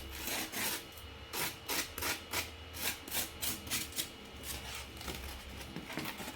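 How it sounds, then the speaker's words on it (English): Edges of an RC plane part are smoothed with rhythmic rubbing strokes, about a dozen back-and-forth rasps in a steady pattern, fairly quiet and close with no talking. "Then you can go over and just smoothen out the edges."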